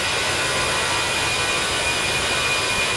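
A steady, loud roar from the jet engines of a Brussels Airlines Airbus A319 in Flight Simulator X fills the whole stretch without a break, heard from outside the cockpit during the climb.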